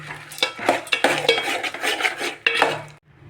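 Roasted peanuts are stirred into hot jaggery syrup in a pot for traditional peanut candy, with a spoon scraping and clattering in quick, repeated strokes before it briefly stops.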